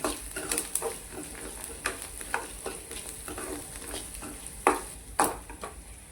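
Onions sauté in salt in a pan while a utensil stirs them, a soft continuous sizzle broken by irregular scraping clinks and taps, some sharper than others.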